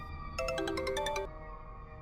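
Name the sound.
phone ringing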